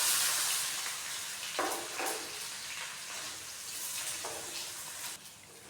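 Onions and mustard seeds sizzle steadily in hot oil in a pan, with a constant close hiss and a few brief surges as they are stirred.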